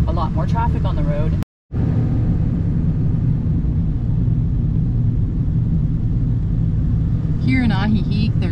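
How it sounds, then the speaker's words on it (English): Steady road traffic rumbling past along a roadside in Ajijic, Mexico, with vehicle engine noise close and continuous and voices talking briefly at the start and end. "There's just a lot more traffic on the road."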